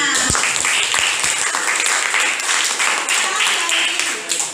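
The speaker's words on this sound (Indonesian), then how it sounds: "Beri tepuk tangan untuk kelompok 5." An audience in a university classroom claps for a student presentation group, dense sustained applause filling the room from start to finish, with a faint voice underneath.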